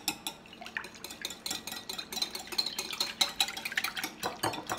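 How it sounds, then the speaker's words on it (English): A spoon stirs a grain-free pizza crust mixture with Italian seasoning in a bowl, scraping and clinking against the sides in quick, uneven strokes near at hand. "Let's give this a stir."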